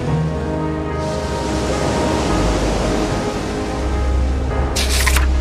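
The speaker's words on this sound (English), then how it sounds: "Day after day, fierce winds batter the ships. Huge waves wash over the decks." Fierce wind and huge waves batter ships at sea in a steady, loud rushing roar of surf and gusts, with a sharp splash-like hiss near the end.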